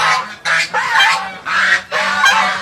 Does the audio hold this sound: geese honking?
yes